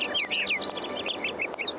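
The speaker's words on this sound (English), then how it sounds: "Noisy birds." Noisy birds in the video game Syberia, a rapid series of high, bright chirps and short tweets overlapping one another, close and lively over a faint low background hum.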